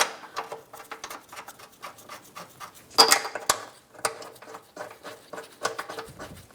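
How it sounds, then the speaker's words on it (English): Bolts go into the subframe of a 2012-2017 Hyundai Accent 1.6L during a front right CV axle replacement. Close, quiet metallic taps, scrapes and ticks come in irregular bursts, with one sharper clink partway through. "we are going to put our other bolts in on the subframe"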